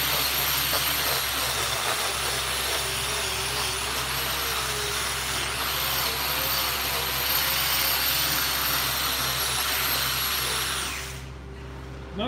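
An arc welder works on a part for a B95 tractor, producing a steady, loud crackling hiss for about eleven seconds before it cuts off abruptly. A faint whine rises and falls underneath the hiss.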